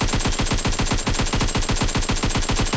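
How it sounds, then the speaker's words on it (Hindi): Rapid automatic gunfire from PUBG Mobile, a fast even stream of loud close shots repeating without pause for the whole stretch, with no talking over it. "मैंने काफ़ी गोलियाँ मारी"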